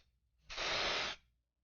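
A can of temporary adhesive sprays onto embroidery stabilizer in one short, close, even hiss of under a second, with quiet before and after.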